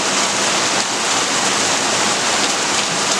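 Heavy rain falling outside a screened porch of a log cabin, a loud, dense and steady hiss of drops on surfaces, continuous and alone without talking.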